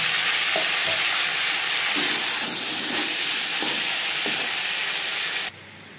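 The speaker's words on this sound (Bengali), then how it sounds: "20-25 সেকেন্ড ভেজে নেওয়ার পর দিয়ে দেবো আলু।" Potatoes and bata fish frying in a little oil give a steady, close sizzle with occasional stirring knocks, cutting off abruptly just before the end.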